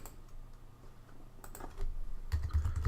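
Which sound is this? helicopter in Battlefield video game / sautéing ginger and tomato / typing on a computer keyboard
typing on a computer keyboard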